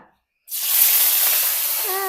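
Chillies hit hot coconut oil in a clay pot after a brief silence, setting off a sudden loud sizzling hiss that holds steady at close range, with a faint voice near the end.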